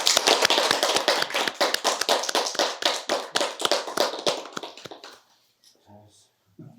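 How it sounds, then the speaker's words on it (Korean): A small group claps together at the close of a Gestalt group counseling session, giving several seconds of brisk, fairly loud applause that stops abruptly and leaves brief quiet with faint murmuring. "박수 한번 칠까요?"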